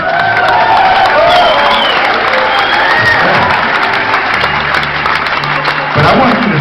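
Audience applause mixed with crowd noise and cheering at a live concert in a music hall, loud and steady throughout, with some voices and whistles rising over the clapping.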